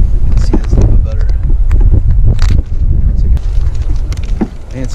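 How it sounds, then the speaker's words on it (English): Strong wind over a Missouri lake in January during kayak fishing, buffeting the microphone with heavy low rumbling gusts and scattered knocks, loud and constant. "We could have done a lot better today if it wasn't so windy"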